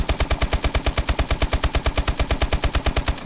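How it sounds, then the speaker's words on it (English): ASM1 submachine gun firing at its normal rate in Call of Duty Advanced Warfare: one sustained burst of evenly spaced, punchy shots, roughly eight per second, loud and close, with no talking. "so this is the normal ASM1 rate of fire"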